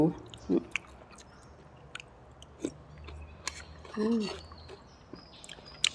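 Someone eats small-noodle pork noodle soup topped with fried garlic, with soft intermittent wet chewing and slurping sounds close up and a few brief sharper bites, over a quiet room background.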